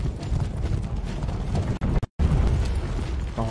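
Horse hooves clip-clopping at a run in the For Honor video game during a raid, steady loud galloping through the clip with a brief dropout near the middle.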